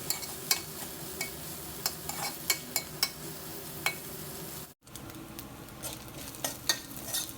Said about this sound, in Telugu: ఆయిల్లో కొంచెం ఫ్రై చేసుకుందాము ఇందులో ఒక చిటికెడు పసుపు వేసేసి దీన్ని ఒక నిమిషం పాటు ఫ్రై చేసుకుంటే సరిపోతుంది